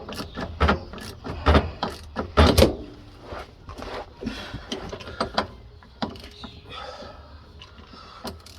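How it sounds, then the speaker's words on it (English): Socket ratchet tightening a fuel filter on a Ford Transit Custom van, with quick clicking pawl bursts, metallic clunks and handling knocks close by, some loud and some faint. "we need to get your socket again and just tighten it"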